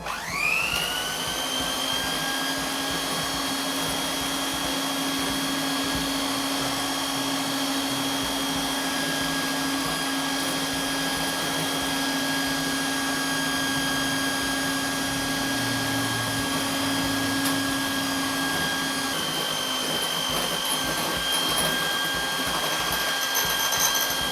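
An electric mixer runs at low speed through magdalena batter as oil is poured in, a steady continuous motor whine with a constant pitch, loud and close, holding unchanged throughout with no voices.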